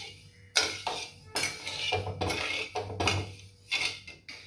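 A pot of one-string sugar syrup being stirred over a medium flame, with metal scraping and clinking against the pan in repeated bursts, close and fairly loud, no talk.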